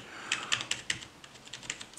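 Rapid key presses on a Rii RK100+ rubber-dome gaming keyboard, an uneven run of soft clacks close by with no voices.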